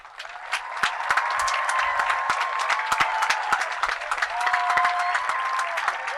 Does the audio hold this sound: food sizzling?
no